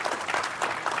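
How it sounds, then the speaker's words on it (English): Conference attendees at the Bitcoin 2022 Open Source Stage break into brief, dense applause, a full wash of clapping lasting about a second with no voices on top. "Give a round of applause."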